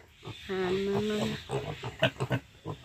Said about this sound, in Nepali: अहिले फेरि मसिनो भन्दा पनि गतिलो भइसकेको छ त सुँगुर त।